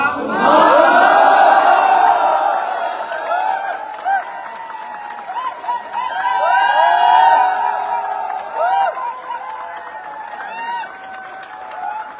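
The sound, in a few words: crowd applause and cheering for the leader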